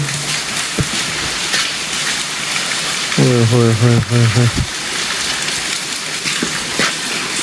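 Steady heavy rain hisses throughout, with a brief low motor-like drone partway through and a few faint thumps.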